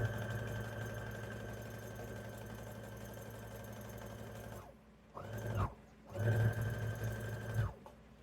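A sewing machine stitches a fabric tote in a steady, close, loud mechanical hum, then stops and runs again in two shorter bursts near the end.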